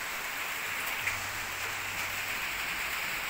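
Steady rain falls during a cloudy storm that threatens flooding around a house, a constant, even hiss of drops without any voices.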